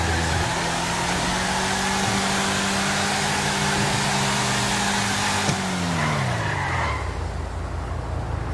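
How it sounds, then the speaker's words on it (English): Car in Grand Theft Auto V, with a rear wheel out of alignment, revving hard with a sustained engine tone that drops as it whips into a handbrake turn, then fades to a low idle rumble amid faint tire noise. "Nice handbrake turn there, Franklin."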